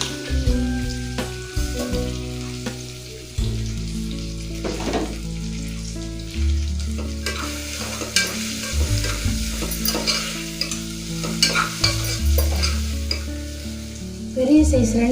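Ginger, garlic, green chillies, mint and coriander frying in a pan for veg pulao, a steady close sizzle broken up by repeated stirring scrapes.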